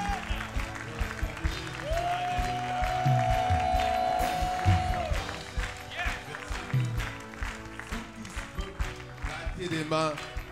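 Church congregation applauding and cheering during a worship service, with dense crowd clapping and voices mixed with background music and speech throughout.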